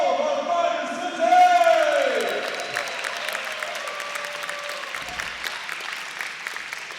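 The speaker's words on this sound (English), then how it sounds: "Let's have a round of applause for all of our fighters today" An audience at a fighting competition applauds and cheers, a burst of clapping and a whoop rising then settling into sustained clapping, with an amplified voice speaking over it at the start.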